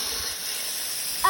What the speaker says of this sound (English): This is the gentle spray.